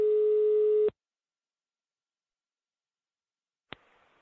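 A steady single-pitched telephone line tone sounds for about a second, then cuts off into silence before a sharp click and faint line noise as a call is placed.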